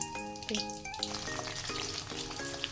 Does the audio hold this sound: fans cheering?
no